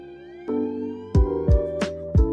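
A police siren wails with sustained tones, broken by several heavy thuds of pounding on a door, in a film scene.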